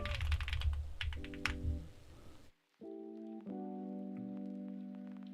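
Rapid typing on a computer keyboard, close and clear, in two bursts of key clicks split by a brief pause, with no talk.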